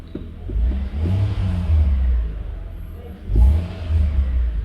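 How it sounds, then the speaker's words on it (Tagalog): A Mitsubishi Pajero engine idles with a deep, steady rumble, swelling into two revs before settling back to a low drone. "Gumanda yung andar ng makina."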